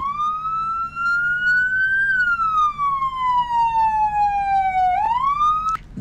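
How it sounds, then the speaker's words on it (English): A custom police siren in a Roblox Studio game, a single electronic wail that rises, slowly falls, then sweeps up again, loud and alone. "there is that siren which is installed"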